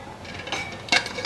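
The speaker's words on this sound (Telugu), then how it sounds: "దీని మీద ఇలా డిప్ప పెట్టి," A lid goes onto a cooking pot of Ankapur chicken curry, giving a couple of close metallic clinks and knocks over a faint room background.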